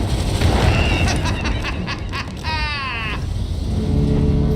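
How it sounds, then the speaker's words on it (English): A booming blast goes off in the Vox Machinae mech game while mining-security combat carries on, layered with rumbling noise, metallic rattles and a warbling electronic whine, loud and dense with no talking. "Did you see that explosion?"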